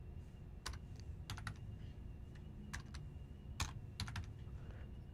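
Typing on a computer keyboard, faint, irregular key clicks in small bursts over a low hum, with no voices.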